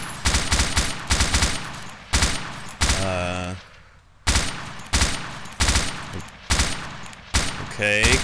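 Arma 2 Wasteland urban firefight with loud, close automatic gunfire in repeated sharp bursts, each with a ringing tail, broken by a short mechanical whirring pause partway through.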